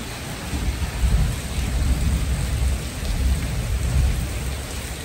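Heavy rain pours steadily while deep thunder rumbles underneath, a loud, dense roar filling the whole stretch without any voices.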